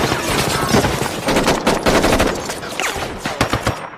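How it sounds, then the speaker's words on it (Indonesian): Rapid bursts of automatic gunfire in a film, with bullets punching through cars, crackle continuously, loud and close, with dense overlapping shots and no voices. "peluru dari tembakan itu berhasil menembus beberapa mobil"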